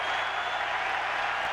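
A baseball crowd at Fenway Park cheers and applauds for Red Sox pitcher Derek Lowe during a 2003 playoff game, a dense, steady roar of clapping and voices.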